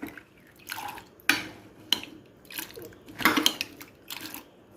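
Black toor dal and chunks of yam being mixed with water in a pot, heard as several separate wet sloshing stirs and spoon knocks with quiet gaps between them, close up.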